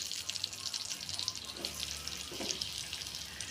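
Onion and green chilli fry in oil with a soft, continuous crackling sizzle, fairly quiet and even, with faint scattered pops and a few low clunks.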